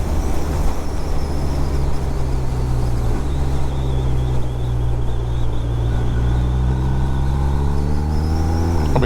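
A BMW R1250R motorcycle in fourth gear holds a loud, steady engine drone with wind rush for several seconds, then the pitch starts climbing as it accelerates near the end.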